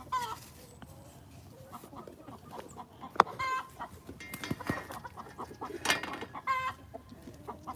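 Chickens cluck and squawk repeatedly at close to moderate range on a rural homestead in Georgia, a busy irregular chorus of calls with no talking.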